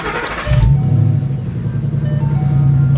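A car engine cranks briefly and catches after a fresh tune, then settles into a steady, low, throbbing idle close by with no talking.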